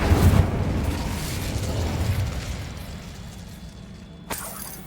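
The Incendio fire spell cast in Hogwarts Legacy: a sudden fiery burst followed by a rushing, crackling roar that slowly fades, then a second, smaller whoosh near the end.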